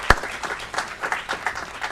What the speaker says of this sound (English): Round of applause for Mr. Dick Miller